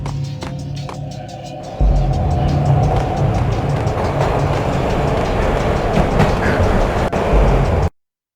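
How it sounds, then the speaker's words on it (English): Train ride in the Max Payne video game: a loud, steady rumble of rolling railcars with clickety-clack rhythm and rattling, starting after a quieter opening and running continuously until a sudden cutoff near the end. "This was my second train ride of the night."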